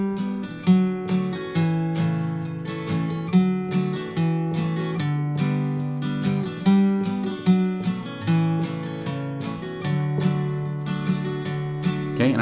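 Acoustic guitar strumming the chords of a song with bass-note walk-downs between chords, a steady, close, moderately loud pattern of strums played alone without talk.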